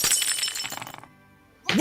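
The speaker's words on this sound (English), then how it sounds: "You just smashed the phone against the window and it was like still in your hand at the time." Glass shatters loudly as a phone is smashed against a window in a video game, a dense crashing burst that tails off into a faint ringing decay before another sharp noise at the end.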